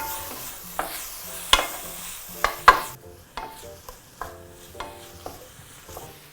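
Black pepper, chili and salt being mixed in a bowl at home: a series of sharp scraping and tapping strokes, about one every second, close and fairly clear, with a light bright rasp between the hits and no talking.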